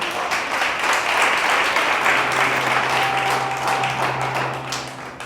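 A church congregation applauds for the King during a Spanish-language sermon, sustained dense clapping that fills the room and holds steady throughout, with a faint low tone running beneath.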